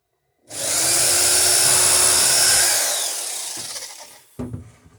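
A loud power tool whirs steadily for about two and a half seconds while riveting the lapped planking on the port side of a wooden boat, then winds down, followed by a short clunk.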